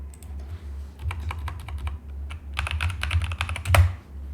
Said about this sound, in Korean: 그냥 문서 쓰듯 타이핑하시면 돼요.